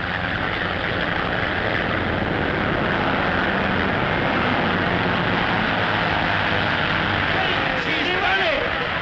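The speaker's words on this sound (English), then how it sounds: "that plane is handling well" A 1930s propeller airplane engine drones overhead at an air race, a loud steady roar that fills the whole span without letup, with no voices.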